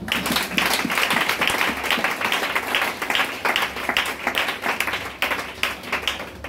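A church congregation applauds during a French-language sermon, a dense, steady wash of many hands clapping at fairly close range, sustained throughout with small surges and no speech over it.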